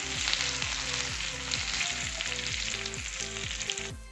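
Potatoes fry in a few spoonfuls of hot mustard oil with a bright, constant sizzle and crackle, close and steady, while a repeating tonal melody plays underneath.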